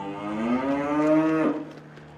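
Bull calves mooing during fall pregnancy checking of cattle, one long, loud, close bawl with a rising and falling drawn-out tone, lasting nearly two seconds and fading at the end.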